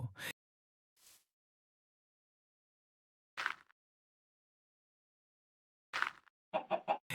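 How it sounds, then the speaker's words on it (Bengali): A chicken in the video game Minecraft clucks in several short, separate bursts with silence between them. The last burst is a quick cluster of clucks. "মাইন্ড করে আমি আরেকটি মুরগি পেয়ে গেছি"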